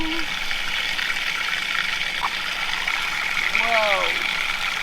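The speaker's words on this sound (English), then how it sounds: "When you first put a new filter in, you have to run water through it for a minute" Water running steadily through a freshly installed triple filtration system, a continuous loud rushing gush with a brief voice fragment near the end.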